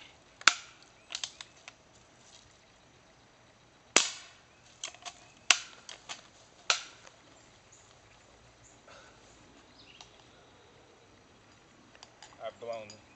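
BB gun fired at a target, giving a handful of sharp, close cracks at irregular intervals with quiet clicks and handling noise in between.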